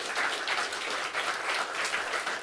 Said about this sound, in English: Big round of applause for everybody here.